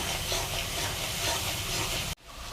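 Fish heads and papaya curry sizzle in a pan with added water, a steady loud hiss that cuts off abruptly near the end.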